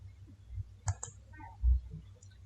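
A few light computer mouse clicks, faint and close, including a quick double click, over a low background hum.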